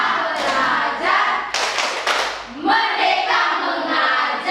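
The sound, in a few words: children clapping a rhythm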